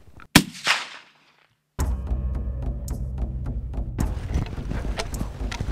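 Rifle shot during a bison hunt in South Dakota, a single sharp loud crack near the start that echoes briefly and fades, followed by outdoor rustling and movement noise.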